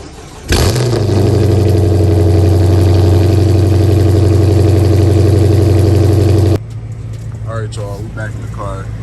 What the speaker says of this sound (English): I'm finna give y'all the best cold start y'all ever heard.